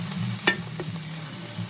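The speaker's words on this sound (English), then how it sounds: "Okay, so saute this a little bit." Food sautés in a pan, a soft low sizzle nearby with a sharp utensil tap against the pan and a couple of lighter clinks, no voices.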